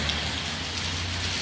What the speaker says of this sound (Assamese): এতিয়া চাওক কি ধুনীয়া বৰষুণ মাৰিছে.